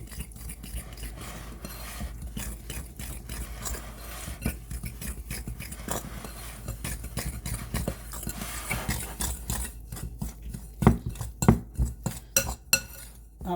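Utensil stirs liquids into flour for fresh pasta dough, producing a steady stream of rapid clinks and scrapes against the bowl that grows busier and sharper toward the end, close up and with no talking.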